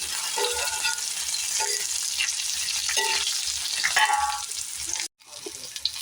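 Dal being stirred in a pan as it cooks, with a steady sizzle and frying hiss, soft scraping stir strokes and a brief clatter near the end, close up and without voices.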